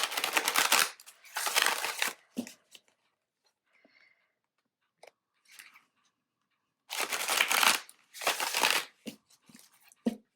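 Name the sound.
shuffling tarot cards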